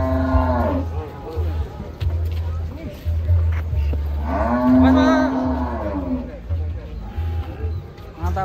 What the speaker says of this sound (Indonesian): Mantap sekali ini sapi